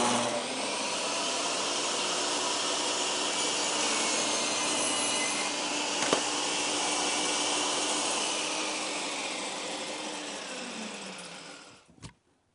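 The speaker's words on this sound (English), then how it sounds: "Now we can have a look at that 40 tooth, alternate top bevel blade, cross cut first." A table saw fitted with a 40-tooth alternate top bevel blade crosscuts red oak end grain, giving a loud steady whine that runs for about eleven seconds before it spins down and stops.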